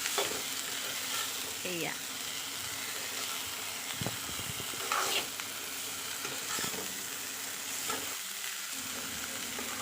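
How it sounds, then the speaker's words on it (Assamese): Food being slowly stirred while it fries in a pan, a steady loud sizzle with occasional scraping of the utensil, and a voice speaking briefly over it. "এয়া মই লাহে লাহে লৰাই আছোঁ।"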